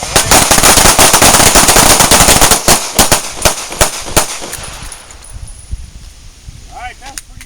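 Rapid pistol shots ring out at an outdoor combat shooting workshop, a loud, dense string of cracks fired as fast as possible, thinning into a few scattered shots before fading, with a voice briefly audible near the end.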